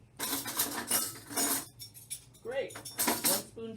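A metal spoon scrapes and clinks against a bowl while it works thick cake batter loose. The sound comes in several close bursts with short pauses between them, and a voice speaks intermittently between the scrapes.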